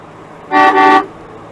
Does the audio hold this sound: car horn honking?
yes